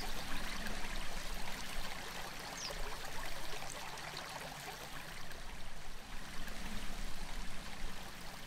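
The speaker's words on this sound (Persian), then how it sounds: "جلو آن حوض بسیار وسیعی با لبه های سنگی وجود دارد که پیوسته آب از میان آن روان است" Water runs steadily through a large stone-edged pool in a Persian garden, a soft, continuous trickling stream heard alone at low volume.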